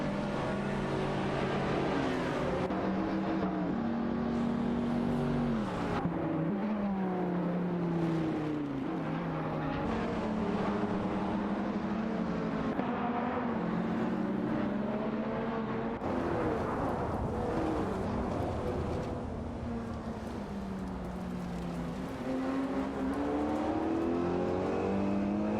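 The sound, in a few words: autonomous race cars battling on track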